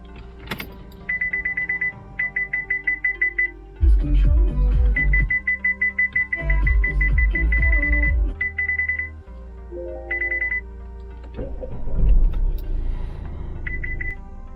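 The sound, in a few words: car parking sensor beeping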